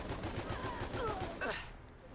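Colt Monitor BAR automatic rifle firing in Fallout 4, a steady stream of rapid, evenly spaced shots filling the space, with game sound effects layered in near the end.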